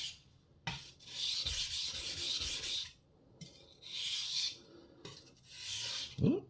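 A knife being sharpened on an Australian natural whetstone, a medium polishing stone. It gives repeated close, raspy grinding strokes in several separate bursts with short quiet gaps between them, and no talking.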